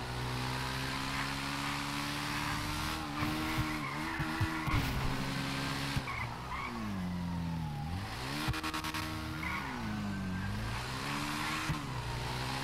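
Engine of a motorcycle ridden in GTA 5, revving and shifting pitch over about twelve seconds amid skidding and tire squeal, loud and continuous with no talk.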